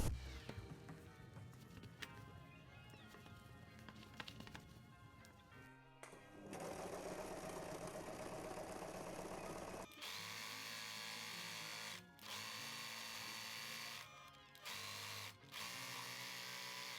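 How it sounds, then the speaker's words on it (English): A sewing machine stitches around a reversible bucket hat, its motor running in loud, steady bursts with a few short pauses and restarts, close up and with no talking. "So I'm going to sew it right size together, all around it, to a point."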